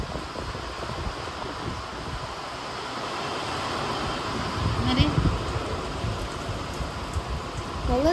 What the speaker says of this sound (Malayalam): പക്ഷെ നല്ല മഴ ഭയങ്കരമായിട്ട്, കാറ്റ് ഭയങ്കര വീശണം